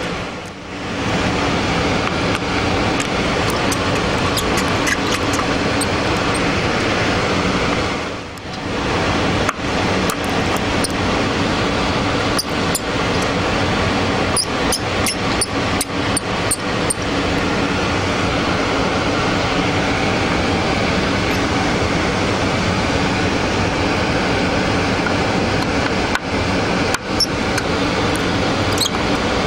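Constant rushing air from clean room ventilation fills the space with a steady broadband whoosh, dipping briefly once, with scattered small clicks and handling noises over it during hard drive recovery.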